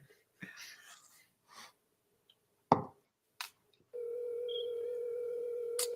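Phone call ringing out unanswered: scattered quiet sounds, a sharp knock and click, then from about four seconds a steady, loud electronic tone holds to the end with no one picking up.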